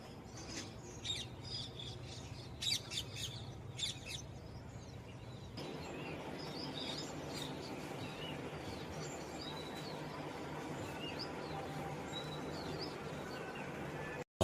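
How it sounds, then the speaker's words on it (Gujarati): Birds chirp and call outdoors in short bursts over the first few seconds. A steady broadband hum or rustle fills the background and grows louder from about the middle of the clip onward. "મસ્ત પક્ષીનો અવાજ આવે છે."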